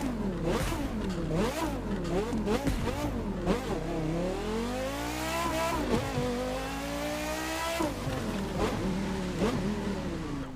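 Porsche Carrera GT engine in the racing video game The Crew 2, revving repeatedly with rising and falling pitch, then holding a long climbing pull before more sharp revs, loud and close with no talk over it.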